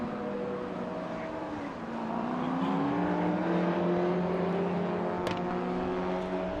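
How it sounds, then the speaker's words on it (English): Corvette C5 race car climbing a hill at the Red Bull Ring in a Histo Cup race, a loud sustained engine drone rising in pitch through the gears, with a short high tick near the end. "die Corvette C5 geht natürlich den Berg hinauf da gewaltig"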